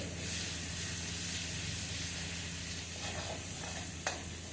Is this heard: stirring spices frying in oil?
yes